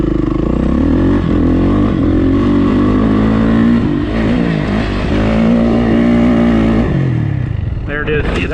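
A dirt bike's engine revs and pulls hard through a jump over a steady rumble, dropping off near the end with a short clatter, while someone talks over it.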